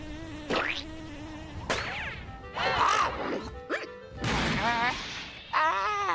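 A fly buzzes close by in an insect-sized scene, its whine rising and falling between and beneath several voices talking over it.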